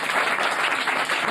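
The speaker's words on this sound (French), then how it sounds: "On peut l'applaudir" A studio audience applauds, a dense, even wash of many hands clapping at once, loud and sustained with no gaps.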